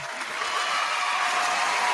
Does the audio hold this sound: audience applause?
yes